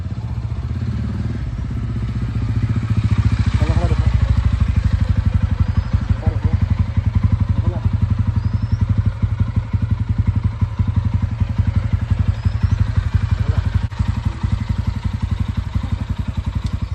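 A new motorcycle with about 1,100 km on the meter, ridden near Goa, runs steadily throughout, a continuous low engine drone with some clatter and thumps, close and loud with no speech over it.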